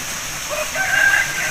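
A prize-winning Aseel fighting rooster crows once, a rising, drawn-out call over steady outdoor noise, fairly loud and close.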